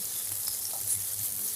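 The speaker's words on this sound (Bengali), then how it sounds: "এগুলোকে খুব কড়া করে ভাজবো না," Marinated ingredients for mixed fried rice fry gently in a pan, giving a soft, steady sizzle with a few faint stirring touches.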